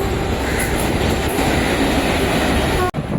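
Seshadri Express passenger train rolls along the rails near Katpadi Junction, a loud continuous rumble and rattle of wagons close by, with a brief dip near the end.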